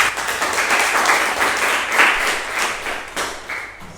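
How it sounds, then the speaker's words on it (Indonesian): Classroom applause for a student's presentation, several pairs of hands clapping in an uneven patter that holds for about three seconds before thinning out and fading, fairly close and loud. "aplaus teman kita"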